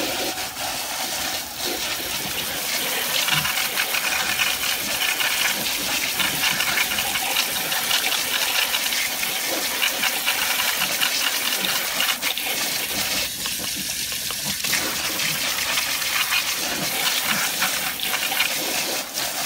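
Water rinsing soap off a laptop, a steady loud gush and splash of running water continuing without pause, with no talking.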